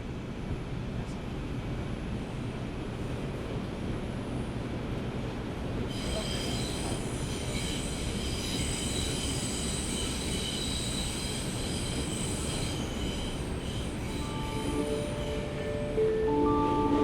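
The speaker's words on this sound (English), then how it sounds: "As the train entered a dark tunnel," Train rolling along rails into a dark tunnel, a steady loud rumble of wheels throughout, joined after a few seconds by sustained high metallic wheel squeal and, near the end, brief higher tones.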